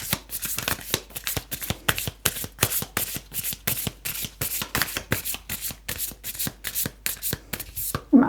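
A tarot or oracle card deck is shuffled repeatedly, a steady run of quick crisp riffling bursts close to the ear, about three per second, with no talking over it.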